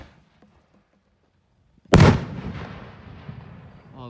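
A 3-inch display firework shell bursts with a single sharp, loud boom after near silence, followed by a long crackling, rumbling decay as the echo fades outdoors.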